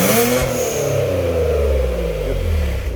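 A Genesis G70 3.3 with an electronic variable exhaust, valve closed, revs its engine in a loud, close, continuous drone whose pitch falls smoothly as the revs drop, with no talking.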